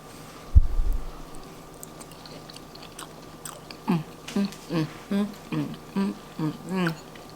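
Crunchy chewing of cooked green beans close up, a quick bite followed by about eight steady rhythmic chews, with faint background noise and no talking.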